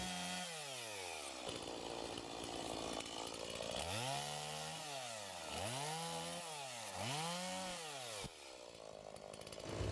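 A chainsaw cuts branches into smaller pieces, its engine rising and falling in repeated loud revving surges as each cut is made, close and with no voices.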